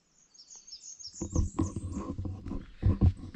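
Birds sing and chirp on a morning at a forest campsite, bright overlapping calls at moderate distance, partly covered by louder, rougher nearby noise in the second half.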